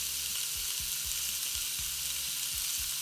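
Steak searing hard in a hot pan gives a steady, loud, close sizzle, with low scraping bumps recurring about every half second as the meat is shifted; no one speaks.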